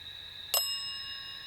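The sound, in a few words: bell ringing during a ghost hunt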